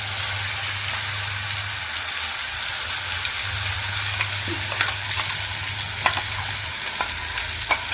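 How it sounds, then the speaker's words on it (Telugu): Tempering spices sizzle in hot oil for a cucumber chutney: an even, dense hiss holds throughout over a low hum, with a few soft crackles and clicks and no voices. "ఇప్పుడు పోపులు వేసేసాను పచ్చడి."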